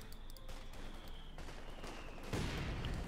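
Rapid, fairly faint bursts of light machine gun fire in a video game battle, steady chatter of shots with a heavier blast near the end.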